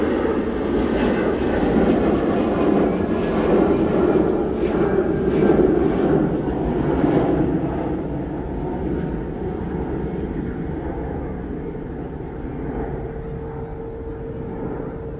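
A fixed-wing airliner lands at Manchester Airport, its broad engine roar and rushing air steady and loud throughout, easing slightly toward the end with no other sound on top.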